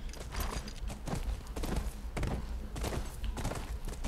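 Rhythmic horse hooves clip-clopping at a steady walking pace, fairly close, with no talking, in the video game The Last of Us Remastered on PS4 Pro.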